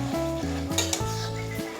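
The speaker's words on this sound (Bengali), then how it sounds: "ঘি আর গরম মশলা ভালোভাবে মিশিয়ে নেব।" Ghee and garam masala being stirred into a milk-and-fennel pointed gourd curry, a soft sizzle under steady stirring with a few spoon clinks against the pan, alongside a sustained musical tone throughout, with no talking.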